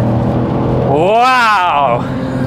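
Alfa Romeo 156 GTA with its Busso 3.2 V6 accelerating out of a corner in second gear, the engine note climbing loudly then easing, heard from inside the car with a driver talking throughout.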